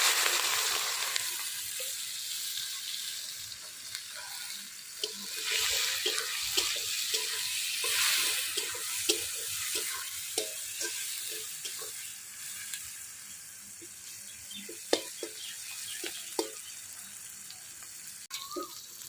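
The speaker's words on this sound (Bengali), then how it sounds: "মাংস রান্না করবো, তেল দিয়ে দিলাম, জিরে, পেঁয়াজ কাটে রাখছে দিয়ে দিলাম" Cumin and chopped onion frying in hot oil for Bengali-style chicken biryani, a steady close sizzle with scattered crackles and pops throughout.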